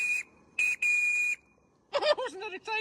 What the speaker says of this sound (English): Oh, Henry, I think they're going to toot the whistle for us.